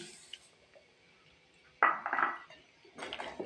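Sugar poured into a pot of carrot kheer, heard as a few clinking, scraping kitchen sounds with a sharp burst midway and another toward the end over a quiet background.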